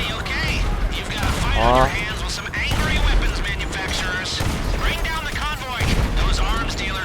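Gunfire in GTA V, sharp broadband bursts scattered through the clip amid constant excited talking and game noise, loud and close.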